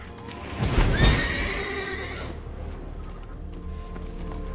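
Roach, Geralt's horse in the video game The Witcher 3, lets out a loud, close whinny about a second in, with hoof clops around it, and the sound fades into a low ambient hum.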